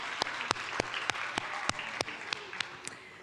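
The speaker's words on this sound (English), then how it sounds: "let's do an extended round of applause for ourselves" Audience applause at a conference closing session, heard faintly with a handful of sharp, distinct claps spaced irregularly over a soft wash, as from a small or distant group.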